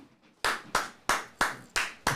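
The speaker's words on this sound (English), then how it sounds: "I'm going to clap." One person claps six times in a steady rhythm, each clap sharp, close and crisp against near silence.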